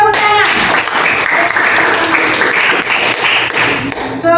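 Schoolchildren in a classroom burst into loud, dense clapping after a short voiced phrase, the applause sustained and close for several seconds.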